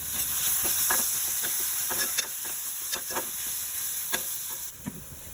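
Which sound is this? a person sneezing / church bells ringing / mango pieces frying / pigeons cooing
mango pieces frying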